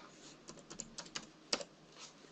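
Soft typing on a computer keyboard comes through as a quiet, irregular patter of key presses over a couple of seconds, with one slightly louder tap near the middle and no talking.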